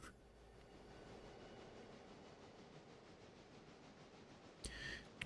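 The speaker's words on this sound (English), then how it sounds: "I can hear Big Pig coming." The locomotive Big Pig approaching in the train game Railroader, a very faint, steady rolling rumble with a soft rhythmic clatter, distant and low, ending in a brief louder hiss.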